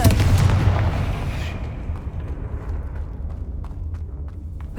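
Confringo blasting spell cast in Hogwarts Legacy: a loud fiery burst up front with low rumbling booms that fade into a decaying roar, a few faint crackles trailing off.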